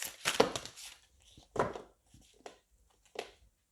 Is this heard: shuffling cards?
yes